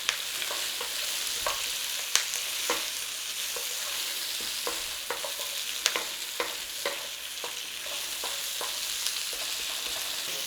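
Onions stir-fry in a hot pan, a steady bright sizzle broken by repeated sharp scrapes and clacks of a utensil stirring, close and fairly quiet with no talk.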